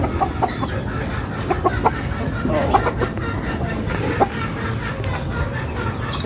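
Native breeder hens cluck repeatedly at close range in short, uneven bursts over a steady farmyard background hum, with no clear talk.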